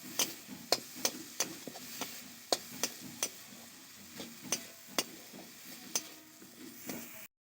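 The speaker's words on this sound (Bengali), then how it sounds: "বাদাম বাটাটাকেও আমি খুব 1 মিনিটের মতন ভালো করে ভেজে নিয়েছি।" Ground peanut paste fries in a pan while a spatula scrapes and taps the metal in a regular rhythm, a soft sizzle running underneath the sharp, evenly spaced knocks.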